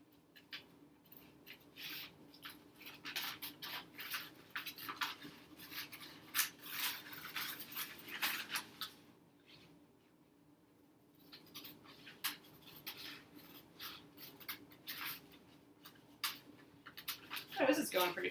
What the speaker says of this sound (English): let's get these other pieces trimmed too right away